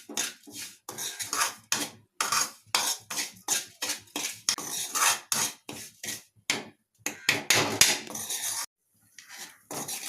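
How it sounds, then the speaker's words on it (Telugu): Semolina roasting in a pan for a kova stuffing, with a spoon scraping and clinking against the metal in quick irregular strokes, close and fairly loud, with brief pauses between bursts. "రవ్వ ఇలా వేయించుకోవాలి."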